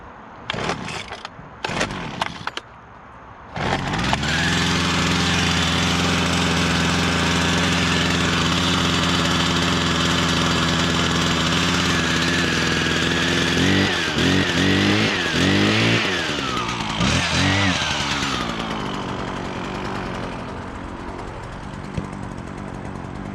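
A small gas lawn-equipment engine gives a few short bumps, then catches and runs loud and steady close by, revving unevenly for a while before settling back to a steady drone.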